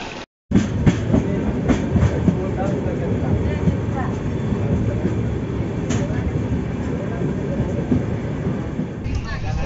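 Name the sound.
Konark Express passenger train at Bhubaneswar station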